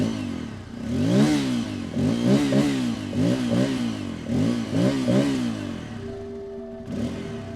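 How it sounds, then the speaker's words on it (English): A 2021 Bajaj Pulsar N250 motorcycle with its stock exhaust revs up repeatedly in a series of close, loud throttle blips that rise and fall, then settles to a steady idle, with no voices. "we know what you are waiting for, the stock exhaust sound,"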